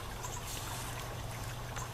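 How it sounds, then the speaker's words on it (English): Water trickles steadily out of the dispensing tube of a Camelbak 20L water tanker once the tank is full, a continuous soft flowing wash with no voices over it. "When you know this is full is when you start to have water coming out of your dispensing tube."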